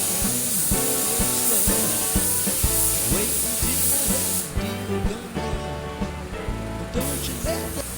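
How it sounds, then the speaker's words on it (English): A spray gun lays down a second coat of automotive paint during a spot repair, a loud continuous hiss of spray in repeated passes over a steady background hum. "After about a 15-minute flash time, I'm going to go ahead and I'm going to put my second coat down."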